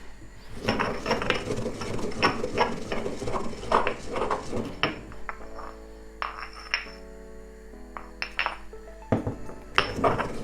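Clattering and clinking of a metal pot and lid while octopus soup cooks, with several sharp clanks and scrapes, close by and moderately quiet, followed by a short ringing tone and a few more clinks.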